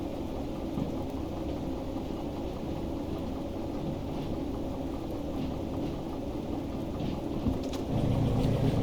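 Steady rain pours over a train yard in the video game Derail Valley, a constant dense hiss with a low rumbling bed that grows slightly louder near the end, no one talking.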